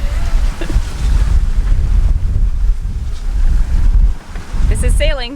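Wind rushing over the microphone and water washing past the hull of a sailboat under head sail alone, a loud steady roar with surging swells, followed by a brief tonal warble near the end.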